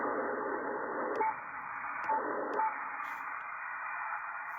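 QRM interference on an HF ham radio receiver: a steady band of hiss and buzzing noise that keeps on throughout, with a few brief tone blips breaking in and no voices.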